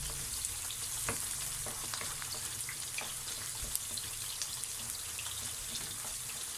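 Eggplant pieces frying in a pan of oil while cooking Egyptian moussaka, a dense continuous crackling sizzle with scattered tiny pops, even and moderately quiet throughout.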